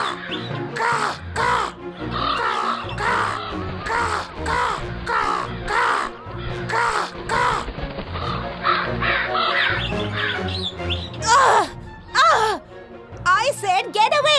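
A large raven caws over and over in a fast, regular series in an animated children's story, loud and close, then breaks into rougher, uneven calls. A voice may be mimicking the caws.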